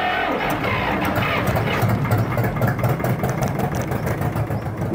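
A Honda TRX450 quad that sat three years in a garage runs its engine, a dense uneven low rumble and clatter close by, rising slightly in the middle, with no talk over it.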